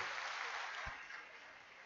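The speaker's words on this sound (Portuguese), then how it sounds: "aplaudir o Senhor, meus irmãos" A church congregation applauding during a worship service, a brief, dense and fairly faint wash of clapping that stays steady, then eases slightly.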